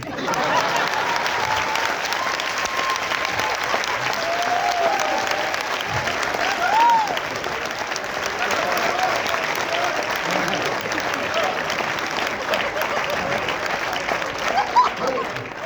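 Sustained audience applause fills a hall at a youth mission anniversary gathering, steady and dense for the whole stretch, with a brief whistle-like tone rising out of the clapping midway.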